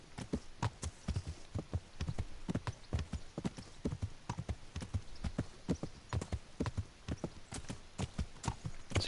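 Hooves of a cantering horse in the medieval game Kingdom Come: Deliverance thud in a steady, rapid rhythm of clip-clop beats, loud and close from start to finish.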